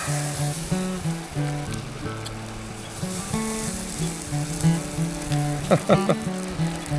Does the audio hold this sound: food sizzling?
yes